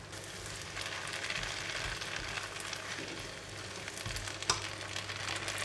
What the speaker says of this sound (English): Continue to cook for about 2 to 3 minutes until the kuey teow is soft.